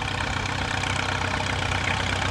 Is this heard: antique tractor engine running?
yes